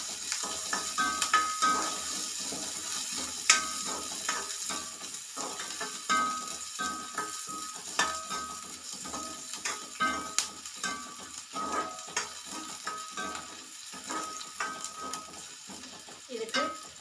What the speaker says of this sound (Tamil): வெங்காயம் போட்டு வதக்கிக்கணும்.